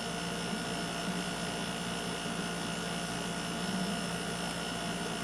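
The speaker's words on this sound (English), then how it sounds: "the noise you're hearing is my air conditioner unit" A loud wall-unit air conditioner running just outside, a steady droning hum with tonal whine and constant broadband noise, unbroken throughout with no voices.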